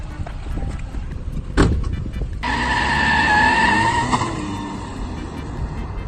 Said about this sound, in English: Yo, Pablo, check out my new car